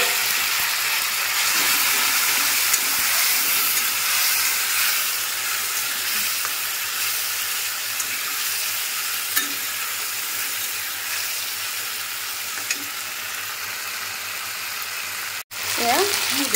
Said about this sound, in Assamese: বিলাহী ভাজিছে